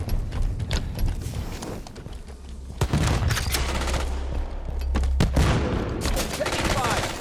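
Gunfire in a Halo 5 Breakout 4v4 elimination round, with rapid bursts of automatic weapon shots and heavier booming hits, fairly loud and close amid game effects and occasional voices.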